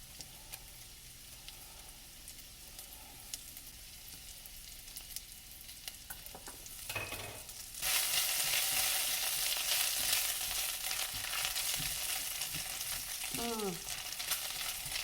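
Garlic frying and browning in a pan, a steady sizzle that swells sharply partway through into a loud, dense hiss and keeps going, with a brief faint voice-like sound near the end.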